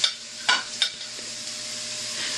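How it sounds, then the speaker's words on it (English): Meat and onions fry in a pan, a quiet steady sizzle broken by a few sharp scraping stirs near the start. "you just get the meat in there with the onions."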